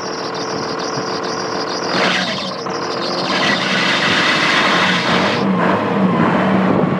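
A 1998 Dodge Cummins 12-valve diesel truck engine runs steadily close by, a continuous loud mechanical drone that rises slightly in level partway through, with no talking.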